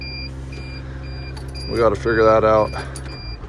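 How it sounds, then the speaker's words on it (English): A diesel machine's drive system controller sounds a steady high electronic alarm tone that repeats throughout, heard over idling engine rumble while someone speaks partway through. "There's that alarm we were getting last night."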